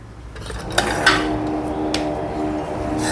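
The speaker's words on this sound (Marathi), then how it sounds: "आणि परत एकदा हे सगळं नीट मिक्स करून घेऊया।" A spoon stirs spring onion subzi with ground coriander-cumin, chilli powder and turmeric in a metal pan, giving a few sharp clinks and scrapes over a steady low sizzle.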